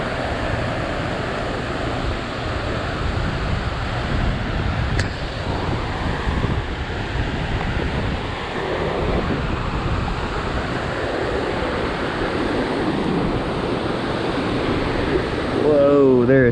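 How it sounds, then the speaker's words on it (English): Strong wind buffets the microphone at Center Hill Dam, a steady loud roaring rush that runs throughout, with water and surf-like wash underneath. "Whoa, there is some heckin' wind today."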